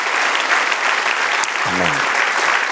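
A church congregation applauds steadily, dense clapping filling the whole moment, with a brief low vocal murmur partway through.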